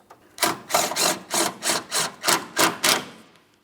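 A mounting bolt on a 2004-2008 Pontiac Grand Prix headlight assembly is turned in with a ratchet, giving about eight close, evenly spaced rasping clicks in quick rhythm.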